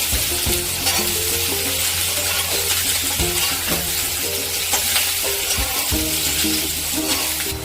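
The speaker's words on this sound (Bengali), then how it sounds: "ধনে পাতার ডাঁটি, এগুলোকে হালকা করে ভেজে নেব" Coriander stems fry lightly in a pan, making a steady close sizzle broken by repeated scraping stirs and faint metallic clinks of the spatula.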